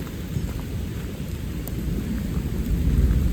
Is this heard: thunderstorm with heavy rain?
yes